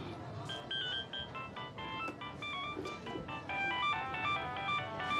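A mobile phone ringtone plays as a faint, repeating chime melody against a murmur of background noise in a shop, growing slightly louder toward the end.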